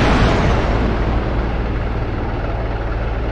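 A SAM missile from an M1097 Avenger striking an aircraft in the game DCS World, heard as a loud, broad roaring explosion that rumbles steadily and fades slightly, with no voices over it.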